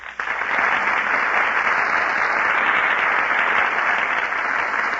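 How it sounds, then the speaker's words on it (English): Studio audience at a classic radio drama broadcast bursts into applause, a dense, steady wash of clapping that holds at full strength throughout with no voices over it. "That applause you hear, ladies and gentlemen, is for Alice Faye, Herbert Marshall, and Humphrey B"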